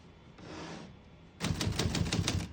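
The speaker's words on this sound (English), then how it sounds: "We're going to keep it on single and finish typing." Keys of a 1957 Remington Quiet-Riter portable typewriter clack in a quick run of about eight crisp, close strikes, following a softer mechanical shuffle beforehand.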